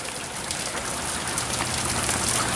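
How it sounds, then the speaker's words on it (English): Heavy rain pours steadily during a nearby tornado, a dense, even hiss of drops drumming on surfaces with no voices. "all it's doing right now is just raining real heavy"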